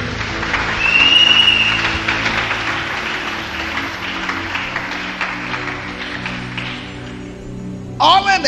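A church congregation applauds in acclaim of Jesus, a broad, sustained wash of clapping that peaks early and slowly thins, with voices over it and a brief burst of louder sound at the very end.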